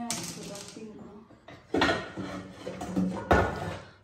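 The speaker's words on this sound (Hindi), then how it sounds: "तो बेगम यहाँ पे बर्तन निकाल रही हैं" Metal kitchen pots and utensils are pulled out of a kitchen for packing into boxes, clattering and clanking in several loud, irregular bursts close by, with quieter rattles between them.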